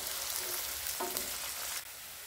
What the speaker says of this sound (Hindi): इसमें चॉप की हुई प्याज डाल देना है